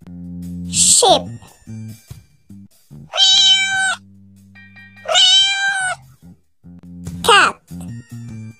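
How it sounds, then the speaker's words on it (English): A cat meows three or four times, loud and near, each cry a clear drawn-out mew with short gaps between them, alone over a faint low background hum. "Cat."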